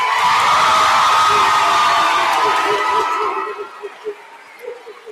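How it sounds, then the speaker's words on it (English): Crowd at a high school awards ceremony cheering, whooping and clapping loudly for graduating seniors, a dense roar that fades after a few seconds into scattered shouts and chatter. "Let's give our seniors another round of applause."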